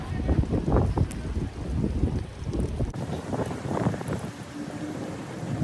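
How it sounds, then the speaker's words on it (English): Wind buffets a microphone outdoors on a walk, making a steady, loud, gusty rumble that continues throughout with no clear talk. "Oh, it's windy."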